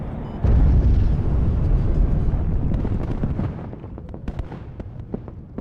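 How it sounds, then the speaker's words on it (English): Incoming artillery fire explodes in the WARNO video game with a heavy, loud boom, then a long rumbling roll of blasts and scattered crackles that slowly fades, with no voices. "Taking incoming artillery fire."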